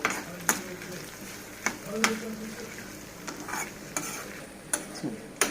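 Dry red chilies, garlic, coriander seeds and cumin roast in a pan with a soft sizzle while a spoon stirs and scrapes them in sharp, irregular strokes, close by.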